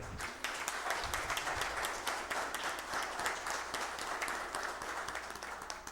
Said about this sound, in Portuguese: uma salva de palmas para o Vicente, que se faz aqui presente.